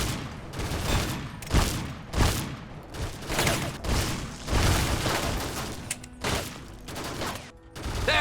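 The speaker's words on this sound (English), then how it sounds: "I fucking love shotguns." Shotgun gunfire in the Fallout video game, a rapid series of loud, close booming blasts fired in quick succession roughly every half second to a second, with mechanical clacks between shots and no talking.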